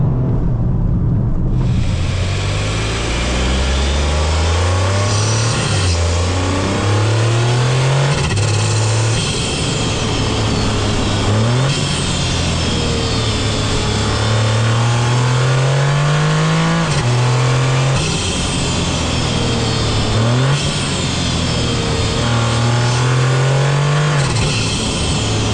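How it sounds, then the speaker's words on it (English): A 2025 Toyota GR Corolla with automatic transmission accelerating hard at full power, its engine note climbing in repeated rising sweeps through each gear change, with a light wastegate whoosh between shifts, loud and continuous from inside the car. "Just a little wastegate sound."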